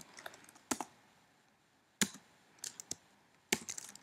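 Code being typed on a computer keyboard: a few quiet, sparse key clicks in small clusters with pauses between, close against a low background hiss.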